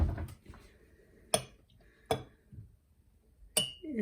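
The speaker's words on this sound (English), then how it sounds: "I'm going to get a spoon to stir it with so that we can really see." A spoon clinks against a glass jar of red cabbage liquid turned pink with vinegar, giving three or four sharp separate chinks spaced across a quiet stretch, close by.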